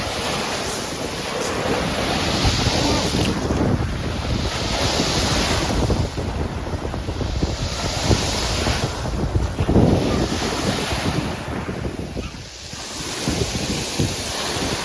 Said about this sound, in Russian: Сегодня море волнуется.